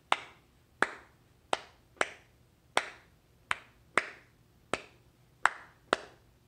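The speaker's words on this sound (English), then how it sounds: "it is basically based off of this rhythm that I'm going to clap for you" One person claps a steady practice rhythm for a hymn accompaniment, nine sharp, close claps spaced roughly three quarters of a second apart in a quiet room, with no other sound.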